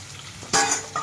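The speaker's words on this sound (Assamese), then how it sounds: "এইখিনি আমাৰ এতিয়া ধুনীয়াকৈ তেলত ভাজি লৈছোঁ" Panch phoron and onion hit hot oil in a kadai with a sudden sizzle about halfway through, then a second short burst near the end; a quiet, close, one-second moment with no talk.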